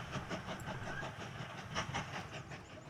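Train running in the Mashinky railway video game, a steady rhythmic clatter of wheels with a soft hiss of steam, continuous and fairly close, with no voices.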